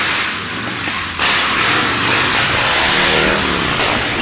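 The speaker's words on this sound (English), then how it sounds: "Gunning your engine at a bus isn't going to make it go any faster." Harley-Davidson motorcycle engine revved hard near a bus, a loud, rough roar that surges and stays high, with wind or traffic noise around.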